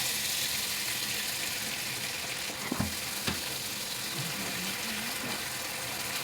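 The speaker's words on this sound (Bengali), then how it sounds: "আর মশলাটা কষিয়ে নেওয়ার জন্য একটুখানি আমি জল দিয়ে দিচ্ছি।" Spice paste for steamed potato dhokla frying in a pan, a loud steady sizzle throughout, with a few sharp clinks and stirring scrapes as a little water goes in.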